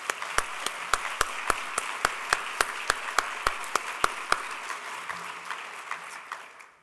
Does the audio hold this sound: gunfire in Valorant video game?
no